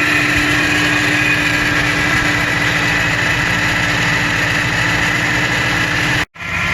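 A 1986 Subaru engine runs steadily at a smooth idle with the choke partly closed, a loud continuous hum close by that cuts out abruptly near the end.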